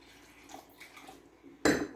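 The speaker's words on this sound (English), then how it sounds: "Add some water." Water poured into corn flour in a bowl while making oobleck, a short splash and pour arriving near the end after quiet clinks of bowl and spoon, close and alone.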